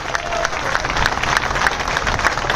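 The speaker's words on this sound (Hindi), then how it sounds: "खड़े होकर ताली बजाओ साथियों" Applause from a political rally crowd for a standing ovation, a dense steady patter of many hands clapping at moderate distance for a couple of seconds, with faint voices mixed in.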